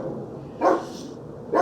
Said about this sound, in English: Some sort of a plane going overhead and the dogs are barking at the plane.